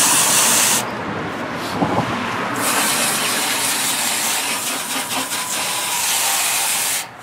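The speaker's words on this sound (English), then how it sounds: "just take a regular garden hose, run a light mist, just wet the entire coil down" A regular garden hose sprays a light mist over an outdoor A/C condenser coil, a close, steady hiss that stops briefly and then resumes.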